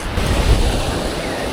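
Ocean surf washing onto a Texas beach, a steady broadband roar with a brief louder swell, mixed with wind buffeting the microphone and no voices.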